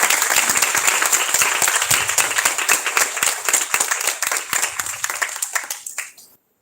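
Audience applause at a felicitation during a national conference's inaugural ceremony: dense, lively clapping from a sizable crowd that thins out and fades to silence at the end.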